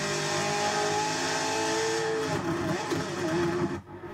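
McLaren Senna supercar lapping a race track, its engine droning steadily near and loud with harmonic tones that shift as it slows and revs toward the end, a brief cut near the close.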